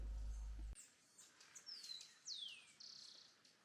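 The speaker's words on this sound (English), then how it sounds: "You hear all the birds?" Birds chirp and whistle at a campsite in Ecuador, giving several clear, sweeping calls over quiet background after a short low rumble at the start.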